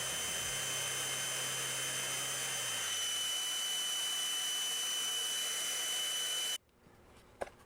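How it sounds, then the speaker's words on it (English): A flow bench roars in a steady, loud rushing whoosh while pulling air through a carburetor for a Ford 302, holding constant for several seconds before cutting off abruptly, leaving quiet room noise and a small click. "now with the flow bench set up in the proper way"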